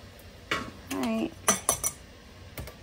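Spaghetti sauce in home-canning jars being stirred with a utensil to release air bubbles, giving a few scattered scraping clinks and taps against glass at close range, with gaps of quiet between them.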